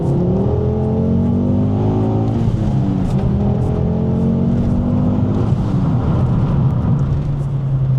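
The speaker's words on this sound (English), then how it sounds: "So let's do a little second gear pull." A Mk2 Ford Focus RS pulls hard in second gear, its engine note climbing steadily in pitch under load from inside the cabin, with a brief dip at a gear change before rising again, loud and continuous without speech.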